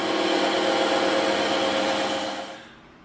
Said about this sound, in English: now we're going to slide this right through the bandsaw